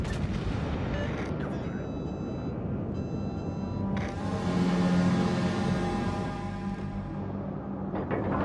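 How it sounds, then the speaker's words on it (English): Battleship Tennessee's main guns fire in a naval combat video game, with a sharp blast followed by a long, rumbling roar midway and another boom near the end over steady background battle noise. "Concentrate fire on the designated target."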